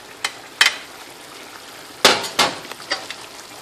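Chopped squash, carrot and other vegetables tipped onto sizzling meat for a Dominican sancocho, a soft frying hiss broken by several sharp clattering drops and stirs, close and with no talking.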